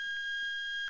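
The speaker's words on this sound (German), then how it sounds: "Alarm?" A steady electronic alarm tone sounds continuously in a Roblox horror hotel game, a high sustained beep held through the whole moment with faint pulses beneath, no voices.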